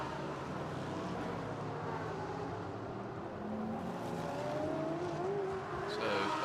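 GT race cars, including the 77 Harmony Racing Ferrari, roar around the Sepang circuit in qualifying, a continuous loud engine drone with shifting pitch as cars pass, heard from a distance.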